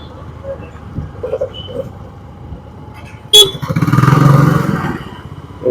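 A motorcycle rides along a road: a quiet engine hum, then a sharp horn toot and a louder surge of engine and passing traffic, with some talking.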